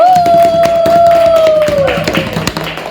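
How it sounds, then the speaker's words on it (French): Classmates at a quiz clap for the winner, a rhythmic, somewhat sparse patter of hands under a sustained tone, with light crowd noise and the clapping loosening toward the end. "Ding ding ding, tout le monde applaudisse"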